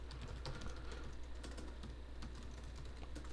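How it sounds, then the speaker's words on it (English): Rapid, steady typing on a computer keyboard, close and clear, keys clattering continuously for several seconds with no voices. "I'm just going to type my YouTube channel."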